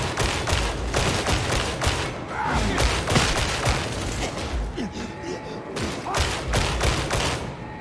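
Rapid gunfire in the video game Warhammer 40,000: Darktide, dense bursts of shots and thumps nearly nonstop throughout, loud and close.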